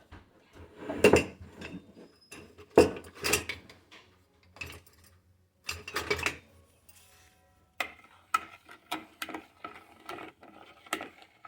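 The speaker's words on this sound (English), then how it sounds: "Let's mix the crystals." Crystals from a National Geographic crystal kit being stirred, with close, irregular clinks and scraping taps against a container in short bursts separated by quiet gaps.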